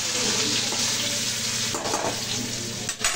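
Cumin seeds sizzle in hot oil in a kadai, a loud steady crackling fry with a few brief stirring clatters near the end.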